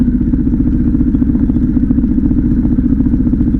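A Harley-Davidson Pan America motorcycle engine stuck at a high idle with the clutch pulled in, a loud, close, steady rhythmic thrum with fast, even pulses and no talking.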